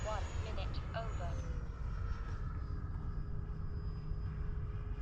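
An FMS Yak-130 model jet on approach with a little power applied, its steady whine and airflow rumble running continuously, with a voice talking over it and a thin high tone near the end.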